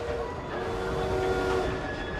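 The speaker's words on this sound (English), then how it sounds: "The target's getting away on the train." Train in the Assassin's Creed video game, a steady rumbling rail-car drone with a faint horn-like tone running throughout, continuous and fairly close, with no speech.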